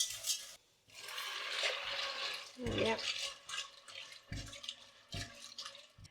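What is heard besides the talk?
water added to pasta in a pan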